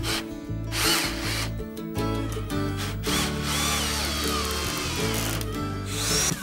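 Power drill driving a hex-head lag screw into wood, loud whirring in several short bursts with brief pauses between, each burst shifting pitch as the screw bites, then a longer steady run.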